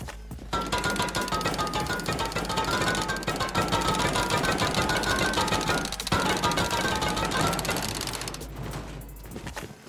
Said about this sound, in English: We can jackhammer just straight through the sheet metal wall.